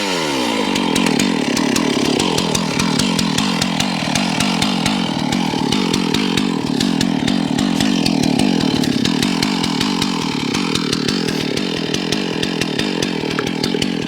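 Chainsaw cutting through a huge black cherry tree in the woods, engine held at a loud, steady high whine throughout with gritty cutting texture, close and continuous.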